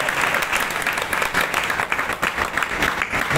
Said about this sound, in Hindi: हरे कृष्ण वक्त के बाद ताली बजा के संवर्धना करना चाहिए।